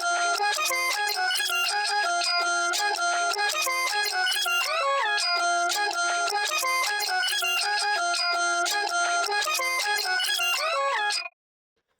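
A beat built in FL Studio from a chopped, non-reversed melodic sample, an instrumental: dense layered tonal stabs rearranged in a busy repeating pattern, loud and steady with no voices, ending abruptly.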